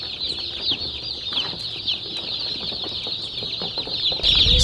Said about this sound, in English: So all of the chicks have arrived.